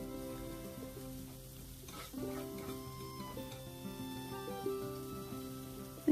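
Half a teaspoon of fennel seed, cumin and black seeds frying in a pan over medium heat, a steady soft sizzle with light crackles and occasional stirring clinks, close and alone without speech.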